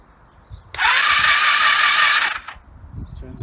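Starter motor cranking the engine of a barn-find 1984 Honda V65 Magna VF1100C motorcycle with the spark plugs out, fed from a borrowed 750 Magna battery; a loud, steady mechanical whir runs for under two seconds and then stops.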